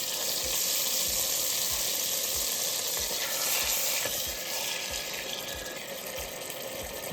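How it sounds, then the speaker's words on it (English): Chicken breast fries in melted butter in a hot pan, giving a loud, steady, close sizzle that runs without a break and has no talking over it. "we're going to take our chicken breast. And like I said, we're just going to take this and we're going to put it in"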